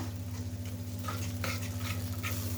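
Spices sizzle steadily in a pan: chili, cumin, coriander and a cashew and almond paste fry for an eggplant dish, with soft scraping stirs, close up and with no voices.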